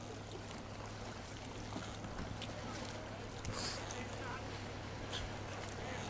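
A small boat paddled by two people glides across a high mountain lake, with soft continuous water wash, low steady hum and wind buffeting the microphone, occasional faint splashes.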